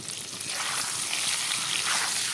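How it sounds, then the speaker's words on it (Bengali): Eggs seasoned with salt and turmeric frying in hot oil in a pan, giving a steady close crackling sizzle throughout with no other sounds. "ডিমগুলো এখন ভেজে নেই"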